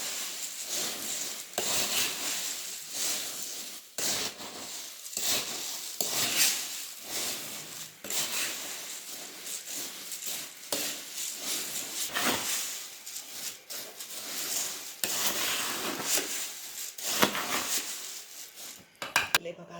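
Fried bhadang ingredients, puffed rice with its spiced mix, tossed by hand in a metal vessel, giving repeated rustling scrapes and light clinks in uneven bursts, close up, with a few quiet knocks near the end.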